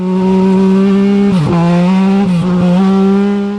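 A small race car holds a steady, droning engine note close by through a slalom, its pitch dipping and recovering twice as the driver works through the gates, with faint tire scrub between.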